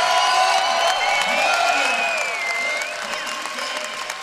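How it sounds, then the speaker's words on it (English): Crowd applause and cheering at an archery championship shoot-off in Las Vegas, dense sustained clapping with whoops and whistles from a large hall, gradually easing off. "I think it's a standing ovation from the crowd here in Las Vegas"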